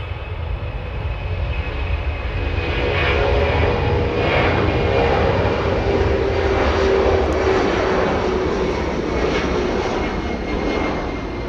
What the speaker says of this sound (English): C-17 taking off in front of LA Flights Live